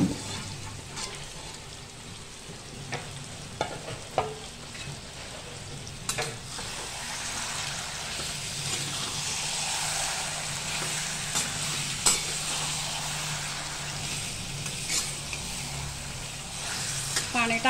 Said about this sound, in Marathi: आता हे चिकन आपल्याला परतून घ्यायचे हे सगळ्या मसाल्यासहित.